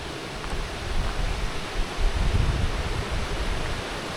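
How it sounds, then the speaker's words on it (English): Rushing water at a water wheel fills the scene with a steady, dense broadband roar, loud and continuous with slight surges, and no voices. "This is our second water wheel."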